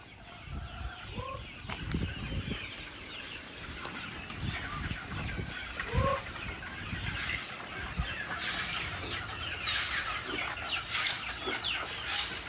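Chickens and young roosters cluck on and off at close to middle distance, with scattered calls and soft rustling from the flock and no speech.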